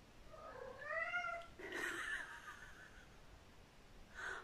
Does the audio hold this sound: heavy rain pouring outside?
no